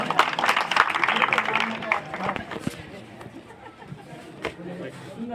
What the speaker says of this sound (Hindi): उनको तालियों से स्वागत करें